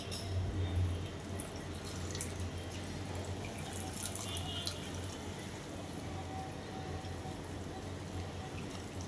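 Plain tap water pours over freshly made paneer to rinse it, a faint steady splashing stream running under a low background hum for several seconds.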